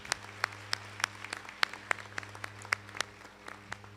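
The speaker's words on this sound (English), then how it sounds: "So a huge applause to all of our staff who's been supporting this." Applause for school staff at a high school graduation, a sparse, fairly faint clapping of a modest number of hands, individual claps standing out in an uneven rhythm over a low steady hum in the room.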